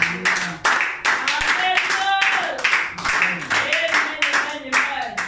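A church congregation at a revival service claps rhythmically in praise, sharp repeated hand claps mixed with loud voices shouting and singing over them.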